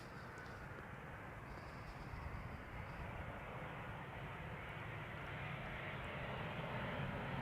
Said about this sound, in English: This is an Embraer 190 arriving from Valencia.